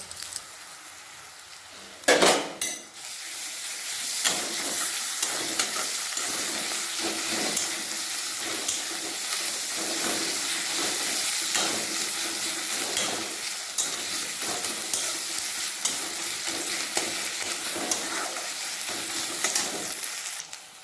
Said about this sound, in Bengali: এরপর আদা রসুন আর কাঁচা লঙ্কার যে পেস্টটা করেছি ওটা দিয়ে দেবো